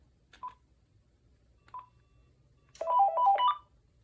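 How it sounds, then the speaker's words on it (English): Keypad tones from a VTech 5831 5.8GHz cordless phone dialing a test call, two single beeps followed by a quick run of several tones, close and clear over quiet background. "Now let's give this a test call."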